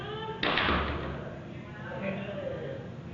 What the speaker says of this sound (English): The door is moving.